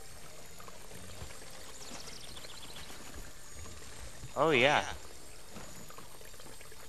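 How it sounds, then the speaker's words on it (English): Water pouring in the video game Trine 2, a brief splashing burst standing out for about half a second over steady game ambience, with a voice talking briefly nearby. "Gotta redirect the water."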